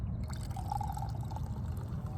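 Carbonated water is poured into a glass, giving a soft, steady fizzing stream over a low rumble that is faint and continuous throughout.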